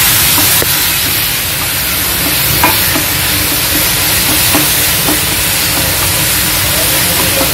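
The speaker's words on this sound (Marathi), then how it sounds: "आपला किस घालायचा। त्याला छान मऊ होईपर्यंत आपल्याला परतायचं।" Grated bottle gourd being sautéed in a pan for kheer, giving a steady, close sizzle and hiss with occasional light scrapes and taps of a spoon stirring, no talking.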